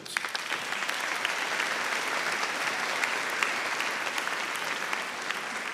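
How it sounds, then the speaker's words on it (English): Steady, loud applause from a large crowd at a college commencement ceremony, sustained clapping with no pauses throughout. "Give yourselves a nice round of applause"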